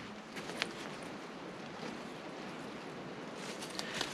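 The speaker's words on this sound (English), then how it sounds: "Exactly as predicted, that wind is now picking up." Wind picks up outdoors while a tarp is set up, a faint steady broadband rush with slight gusting swells and a couple of small knocks, no voices.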